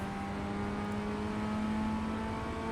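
Formula 1600 race car in iRacing at Rudskogen Motorsenter, its engine droning steadily and loud as it pulls up through third gear, heard alone from the cockpit.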